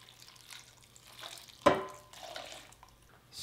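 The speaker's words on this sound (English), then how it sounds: "now I'm going to take that syrup and I'm going to pour this on here" Sugar syrup poured over fresh cranberries in a kitchen, heard as a sharp clatter followed by brief, quiet liquid splashing and trickling, close and fairly soft with no talking.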